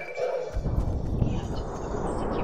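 In the video game Fortnite, a horse neighs and snorts amid game effects and ambient rumble, a loud, continuous dense stretch following a brief quieter opening.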